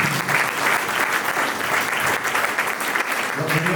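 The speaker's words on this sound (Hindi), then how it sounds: "जोरदार तालियां।" Loud, steady applause from a large crowd, dense continuous clapping that holds strong throughout without letting up.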